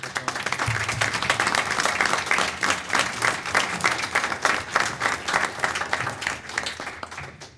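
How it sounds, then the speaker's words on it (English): An audience at a 2016 reorganization meeting applauds in a steady, dense patter of many hands, holding for several seconds before easing off. "A little cheer for the. Thank you"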